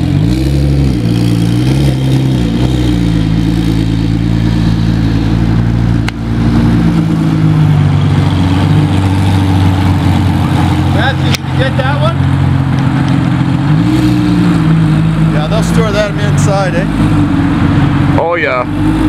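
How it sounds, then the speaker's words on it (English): A 2025 Porsche 911 GT2 RS supercar revs loudly as it moves along a Toronto street, its engine roaring close and steady with pitch sweeps, people talking over it. "There's the new 25 GT2 RS moving."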